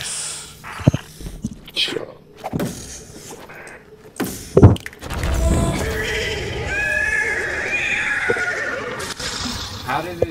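Horse in the Destiny 2 video game whinnying and neighing loudly, followed by a sustained, drawn-out neigh, with footstep-like thuds and talk mixed in earlier.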